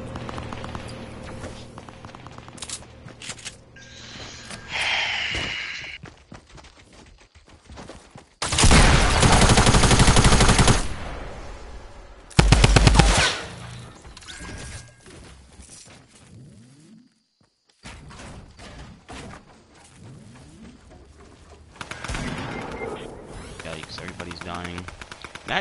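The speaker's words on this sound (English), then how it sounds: "Tommy gun murders if you don't have shield." Rapid bursts of Tommy gun fire from a video game, dense loud volleys in several stretches separated by quieter gaps, with a voice talking between them.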